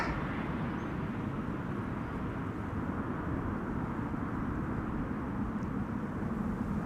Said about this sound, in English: That was KLM flight 592, arriving from Johannesburg